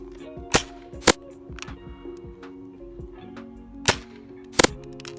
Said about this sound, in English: we're going to try to see how fast we can load these into the breech and fire all 5 of these rival rounds off